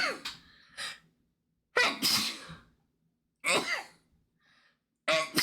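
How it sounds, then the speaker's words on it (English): A person sneezes three or four times in a row, each one a sharp explosive burst with an intake breath before it. Quiet pauses separate the sneezes. "I'm going to sneeze."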